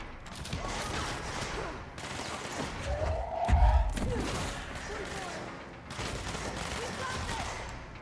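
Gunfire in a video game, distant muffled bursts of shots with a heavy thump in the middle, sitting under game ambience and a player's voice.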